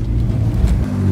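A BMW car accelerating hard up close, its engine a steady, loud, low rumbling roar that holds throughout without a break.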